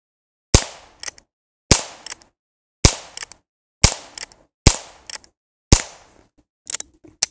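Heritage Rough Rider revolver with a 16-inch barrel, seven sharp loud cracks spaced about a second apart, each followed by a short decay and a faint mechanical click.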